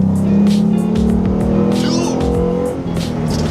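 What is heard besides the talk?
car engine revving with Roush cold air intake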